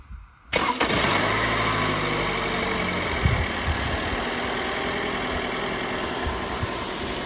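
A Toyota Camry engine cranks briefly after a short silence, catches, and settles into a steady close idle with a small rev bump partway through, running alone without talk.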